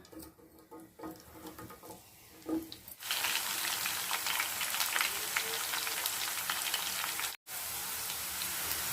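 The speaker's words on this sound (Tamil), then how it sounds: "பாவக்காவை கொஞ்சம் கொஞ்சமாக சேர்த்து பொரிச்சு எடுத்துக்கலாம்." Bitter gourd slices drop into hot oil and fry, the quiet pan bursting into a loud, dense, steady sizzle and crackle that runs on close up, with no talking.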